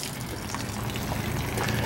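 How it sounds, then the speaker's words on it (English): Water gushes steadily from the fresh tank drain on a 2022 Hideout 178RB camper, a close, loud, continuous splashing rush with no talking. "This drain right here that's draining, that is your fresh tank drain."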